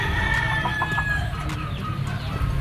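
A Boston Black broodcock rooster of the Iskulin line, kept by a backyard breeder in Barangay Kayumanggi, Lipa, Batangas, crows and clucks close by over a steady low farmyard rumble.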